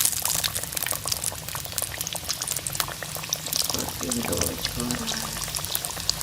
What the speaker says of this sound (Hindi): तो इस तरह से हम इसमें ये समोसे डाल देंगे, इनको फ्राई कर लेंगे।